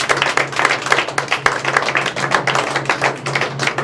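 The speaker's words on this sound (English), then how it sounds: "Give her a round of applause." A room full of people applauds after a card-trick demonstration, a dense, steady patter of many hands clapping throughout, fairly loud and close, with no talking over it.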